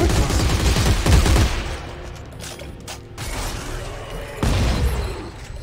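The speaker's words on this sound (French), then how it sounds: "Mon fusil à pompe, il est si efficace." Shotgun fire and weapon mechanics in the sci-fi shooter Dead Space 3, with heavy booming blasts around one, three and four and a half seconds amid clanking, creaking metallic noise.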